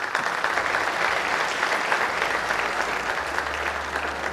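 Audience applause at the Ecrans Noirs film festival ceremony in July 2014, a dense, steady wash of clapping from a crowd sustained throughout without a break.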